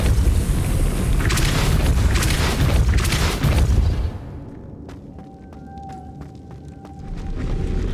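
A Depulso force spell cast in Hogwarts Legacy on Nintendo Switch lands as a loud, sustained booming rush lasting several seconds, then drops away to a quieter magical hum with faint chiming tones.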